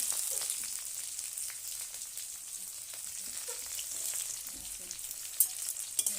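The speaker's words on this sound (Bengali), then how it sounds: "দুটো শুকনো লঙ্কা, কাঁচা লঙ্কা, ফোড়ন, তেজপাতা দিয়ে আর এর উপরে পেঁয়াজ করে দিয়ে দিলাম।" Onions frying in oil with dried red chilies, green chilies, whole spice tempering and bay leaf, giving a steady, even sizzle close by with a few small crackles, no voices.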